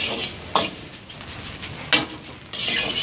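Yangzhou fried rice is tossed in a wok at a street food stall in Saigon, sizzling steadily under sharp metallic scrapes and clanks of the pan at irregular intervals, close and fairly loud.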